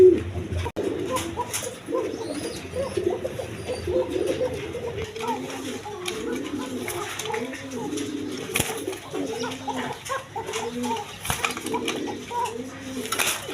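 Bashiraj pigeons at a pigeon market coo steadily in repeated low, rolling phrases, several birds overlapping at close range, with faint background voices and market clatter beneath.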